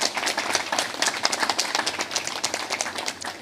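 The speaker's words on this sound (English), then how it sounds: "Let's give them one more round of applause." Steady applause from a crowd, many hands clapping continuously at a fairly even level for a few seconds.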